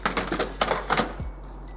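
Paper is pushed into the tray of a Canon MAXIFY iB4050 printer, producing a few close plastic clacks and rustling paper clatter, then a quiet hum.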